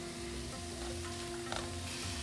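Ginger, garlic and green chilies frying in oil for Kerala fish molee, a soft continuous sizzle at low level with a faint tap near the end, no speech.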